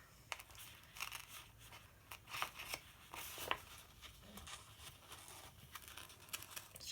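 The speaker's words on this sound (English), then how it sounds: "cut up here with just a pair of scissors and around" Scissors snipping around a punched hole in a paper planner page, quiet crisp cuts with small rustles and crinkles at an irregular pace, close by and faint.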